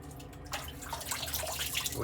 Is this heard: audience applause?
no